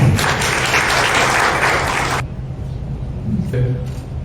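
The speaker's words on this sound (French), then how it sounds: "Sous vos applaudissements" Audience applause at a workshop on technical and vocational training, loud sustained clapping that cuts off abruptly midway, followed by quieter room noise and a brief voice near the end.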